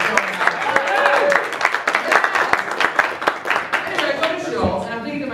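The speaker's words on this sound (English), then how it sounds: "Let's give them a round of applause." A crowd claps in a dense burst of applause, strong at first and gradually thinning out, with some voices mixed in.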